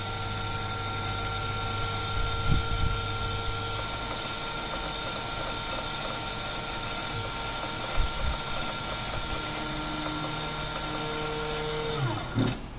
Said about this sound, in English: Before that I have to take the tool down, penetrate tool little into the copper clad